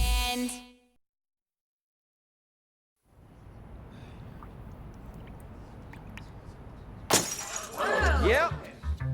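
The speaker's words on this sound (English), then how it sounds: "I just broke a glass for no apparent reason." Glass shatters with a sudden sharp burst late in the scene. Falling shards tinkle just afterward, following a stretch of low background noise, and voices are heard near the start.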